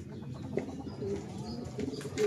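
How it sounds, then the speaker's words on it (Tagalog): Pigeons cooing and fluttering close by at a racing pigeon loft, soft low coos repeating over a murmur of outdoor background noise. "May kalapati na tayong umiikot dito kanina."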